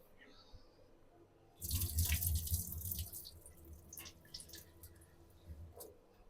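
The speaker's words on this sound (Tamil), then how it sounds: "இப்போ நான் அரிசியை சேர்த்துக்கிறேன்." Soaked basmati rice for a pot chicken biryani pours into the cooking pot with a loud, close watery rush lasting about a second and a half, then fades into scattered splashes and drips.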